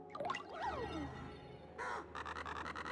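Crows cawing in the Paper Mario: The Thousand-Year Door remaster, several harsh caws layered over a low hum, then a rapid run of repeated, evenly spaced caws near the end.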